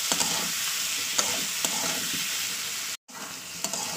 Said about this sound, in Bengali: তো এটাকে আবার 2-3 মিনিট কষিয়ে নেবো তেলের উপরে।